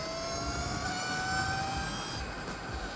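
A Land Energy Moto electric motorcycle with a 70 mph top speed rides along, producing a steady, even electric whine with faint rising tones over a constant road rush. No voices are present.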